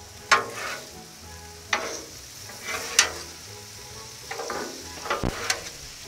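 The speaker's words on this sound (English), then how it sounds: "So just come in here and stir the shrimp and steak up until they're done." Shrimp and steak sizzle on a Blackstone griddle with a steady fry hiss, broken by a few sharp scraping strikes of a spatula as the meat is stirred, close and moderately loud with no talking.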